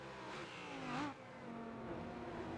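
GT3 race cars in the RENNSPORT racing game lap Road Atlanta, their engines a faint, steady droning roar that swells briefly as one car passes.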